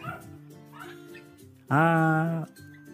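Belgian Malinois puppies, 41 days old, being fed raw beef puppy food give soft whimpers and yips, then one sustained loud whining cry for most of a second.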